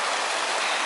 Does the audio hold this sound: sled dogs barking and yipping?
no